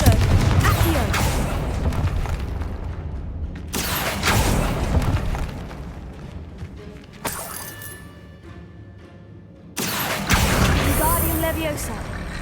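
Confringo blasting spell explosions in Hogwarts Legacy, several loud booming, crackling bursts spaced a few seconds apart, with game sounds and a voice speaking in between.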